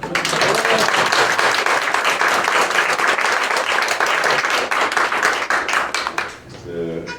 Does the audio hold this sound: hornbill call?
no